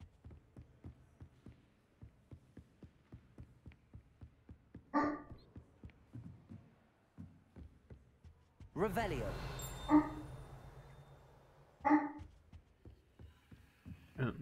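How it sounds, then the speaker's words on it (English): A pet dog barks a few times in the background, sharp distant yaps spaced seconds apart over a steady ticking rhythm of game sounds, with a person briefly speaking. "My dog's barking."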